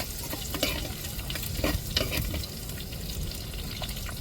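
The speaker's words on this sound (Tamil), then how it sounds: "இப்போ தாளிச்சுக்கிடுவோம்." Spices sizzling as they are tempered in hot oil for a fish curry, a close, continuous crackling hiss broken by scrapes of stirring, with no one speaking.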